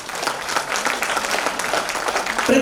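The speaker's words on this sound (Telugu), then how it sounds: "బిగినింగ్ క్లాప్స్ అండి." An audience of about 200 people in a hall breaks into a short burst of steady applause and clapping, fairly close and even throughout.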